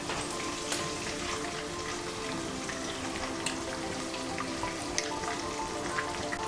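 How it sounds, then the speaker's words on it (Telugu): Ingredients for tamarind pulihora fry in a pan over a low flame, a steady close crackle and sizzle with scattered sharp pops and no voices. "లో ఫ్లేమ్లో పెట్టుకొని ఫ్రై చేసుకోవాలి."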